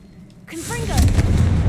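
A Confringo fire blast spell from the Hogwarts Legacy video game bursts out as a loud, close whooshing blast that swells and holds with crackling roar for over a second, after a short quiet lead-in.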